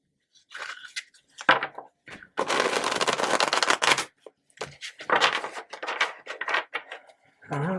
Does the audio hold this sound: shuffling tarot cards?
yes